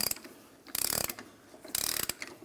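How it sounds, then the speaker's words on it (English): A ratchet clicks in two quick bursts of pawl ticks while an inner tie rod is installed on a 1994–2002 Dodge Ram 2500, close and crisp, with a short pause between bursts. "you can use your ratchet as needed"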